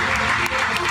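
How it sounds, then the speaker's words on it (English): A round of applause at a long service award ceremony for a school's 100th anniversary, a dense burst of many hands clapping, loud and continuous with a voice faintly mixed in. "a round of applause."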